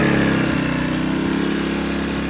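A Sportsman GEN1000i inverter generator engine runs steadily on economy throttle near its 2,000 RPM idle, a close, even, buzzing drone with a fine rapid pulse and no voices.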